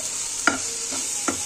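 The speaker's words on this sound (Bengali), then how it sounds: "ভর্তার জন্য সবকিছু একসাথে মিশায় এটা এখন ভেজে নিচ্ছি" Mixed ingredients for bharta frying in a pan, a steady soft sizzle broken by three quick scraping stirs, close and quiet, with no talk.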